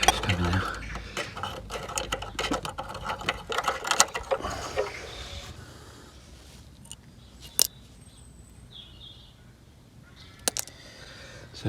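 Wrench ratcheting as a brake nut is undone on a 2002 Range Rover L322, with rapid clicking bursts early on, then sparse sharp clicks and knocks against quiet workshop background.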